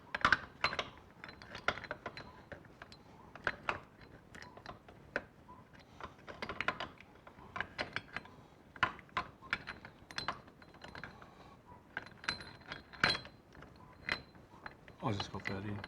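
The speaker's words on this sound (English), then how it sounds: "let's see if we can get this bloody shaft in there" Metal parts clicking and clattering as a gearbox shaft is worked into a Yamaha XS11 motorcycle engine, with irregular close taps and scrapes spread throughout and occasional low speech.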